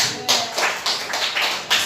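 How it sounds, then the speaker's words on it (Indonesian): A classroom group claps together in a quick, steady rhythm, with about six sharp, loud bursts in under two seconds and no talking between them. "Tepuk tangan buat kita loh"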